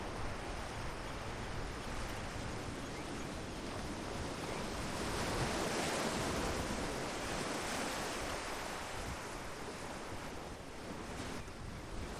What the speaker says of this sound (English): everyone should be able to hear the water now.